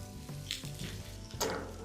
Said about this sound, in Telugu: వేడిగా తాలింపుని మన రసంలో ఇలా వేయండి